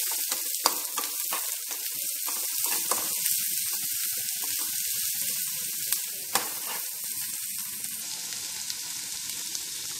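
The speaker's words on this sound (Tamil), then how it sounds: "ஆனியன் நல்லா வதக்கிட்டேன்" Onions frying in a pan with curry leaves and Manila tamarind fruit, a bright continuous hiss and crackle close by, punctuated by a few spoon taps and scrapes, no voices.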